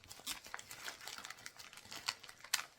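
A plastic vacuum sealer bag roll is handled and cut to size, giving quiet, close crinkles and sharp snips in scattered bursts.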